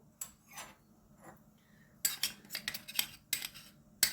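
Spoon scraping and clinking against a bowl while eggplant salad with walnuts is mixed, sparse taps at first, then a quick run of close, bright clatters.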